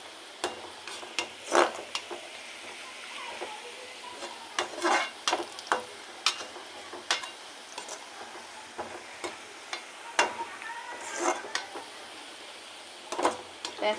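Onions frying in a pan for egg jhappa, a soft sizzle under repeated scraping and stirring strokes in an irregular rhythm, close by with no talking.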